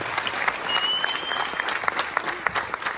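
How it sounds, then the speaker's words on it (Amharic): A film premiere audience breaks into sustained, lively applause, with dense close clapping and a few sharper individual claps, with little else heard. "ጭብጨባው ደግሞ ከፍ ያደርጋል።"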